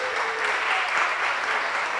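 Dense, steady applause from a crowd, many hands clapping at once with a faint cheer, continuous for the whole short stretch.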